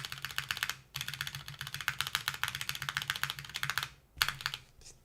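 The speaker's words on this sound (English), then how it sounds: "And then we put on the warped one. See how it sounds rattly?" Mechanical keyboard typed rapidly with a warped spacebar fitted, giving a rattly, clacky rhythm of close keystrokes with brief pauses, no talking.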